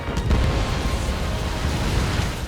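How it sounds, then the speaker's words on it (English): Close, heavy explosions from an Ace Combat 7 aerial dogfight, a continuous low rumbling roar with a dense boom at the start and no pause for the full stretch. "Oh, those explosions are pretty up close."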